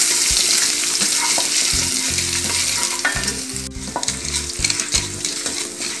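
Ginger and asafoetida sizzle loudly in hot oil while being stirred, with a bright continuous frying hiss and repeated scraping and knocking of a spoon against the pan, no talking.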